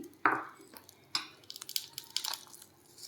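Peanut and mint (pudina) chutney mixed and mashed in a bowl, heard close and faint as a few squishy thuds and scraping taps, irregular and spaced apart.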